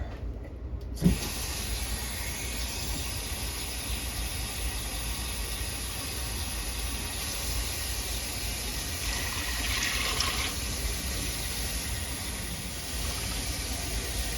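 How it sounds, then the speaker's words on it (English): Tap water pours steadily into a crock pot, a continuous hissing rush that holds an even level for about fourteen seconds, with no talking. "And then I'm going to fill my crock pot up with water."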